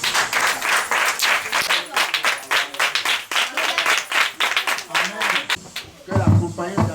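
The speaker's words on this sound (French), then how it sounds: "à applaudir le Seigneur." Children clapping in a group during a visit to an orphanage, a rapid, somewhat uneven patter of close handclaps with voices rising over it toward the end.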